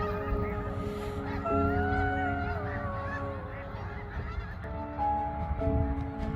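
A large flock of snow geese honks continuously in a winter field, many overlapping nasal calls blending into a loud, busy chorus close by.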